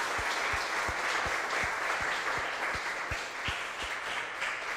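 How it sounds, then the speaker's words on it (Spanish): Church congregation applauding, a sustained roomful of clapping with loud rhythmic beats near the front, steady throughout. "Dele ese fuerte aplauso a Dios"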